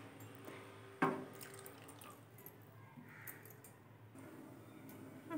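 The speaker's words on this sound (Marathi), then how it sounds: "मी वाटणाचंच पाणी घेतलं आहे, ते त्यामध्ये टाकून घेते" Ground masala water poured into a pot of white peas curry, a soft liquid splash starting with a sharp onset, followed by quiet trickling and dripping in a still kitchen.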